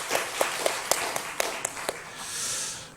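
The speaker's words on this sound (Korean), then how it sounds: "우리 자녀들 축복하는 마음으로 박수 한번 쳤으면 좋겠습니다" A church congregation claps in a short, sparse burst: about eight distinct, evenly spaced hand claps, fairly quiet against the room's hush, before fading into soft ambient noise.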